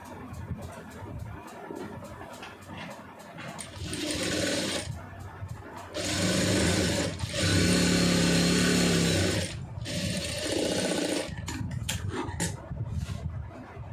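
A sewing machine stitches a blouse patti in three sustained runs, each a loud, fast mechanical whir, separated by short pauses filled with quieter handling noise.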